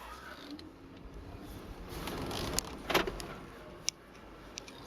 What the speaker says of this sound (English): What you just heard was the vehicle automatically locking